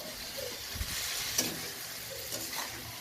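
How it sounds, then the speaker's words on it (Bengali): Vegetables and spices being stirred and fried in a pan, with a continuous sizzle and soft scraping as they are turned, a couple of brief louder knocks from the utensil along the way. "মশলা কষিয়ে এর মধ্যে দিয়ে দিব সবজিগুলো ভালোভাবে নেড়ে কষিয়ে নেব"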